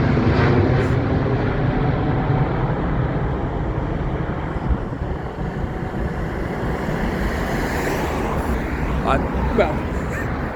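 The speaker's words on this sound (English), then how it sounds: "it's very rare to see the planes actually taking off from this end of where Hatton Cross is based" A plane takes off near Hatton Cross at Heathrow Airport, a steady, loud, broad jet roar that fills the clip with little change and slowly swells and fades.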